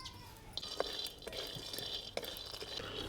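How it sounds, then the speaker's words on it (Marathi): Dry stirring and scraping of peanuts roasting in a hot wok, with light rattling and occasional sharper clinks of a utensil against the metal. "कढई गरम झाली भाजीसाठी शेंगदाणे भाजून घेऊ"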